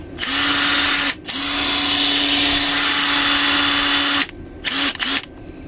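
A Makita cordless impact wrench fitted with a new original battery whirs loudly and steadily for about three seconds, then fires in a few short bursts.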